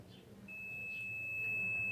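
A faulty Philco microwave oven gives a steady high electronic beep that starts after half a second and continues to the end, close and clear over a low hum.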